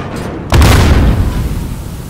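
A grenade explosion in the Call of Duty Modern Warfare campaign hits with a sudden loud boom, then a rumbling blast that slowly decays over the next second and a half.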